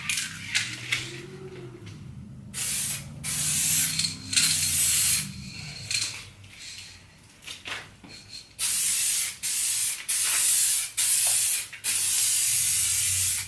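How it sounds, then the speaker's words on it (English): A Spray Max aerosol paint can sprays in repeated bursts of steady hiss, several long and some short, loud and close with brief pauses between, no talking. "And you always want to start spraying before the panel or whatever you're painting."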